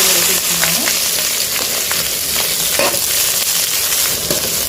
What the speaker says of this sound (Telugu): ఇప్పుడు మసాలా దినుసులు అయితే వేసేసుకుందాము అలాగే ఇప్పుడు ఉల్లిపాయ పచ్చిమిర్చి